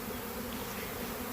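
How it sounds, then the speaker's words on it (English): A swarm of honey bees buzzing steadily, a dense, continuous drone of many wings close by with no breaks. "there's a lot of bees"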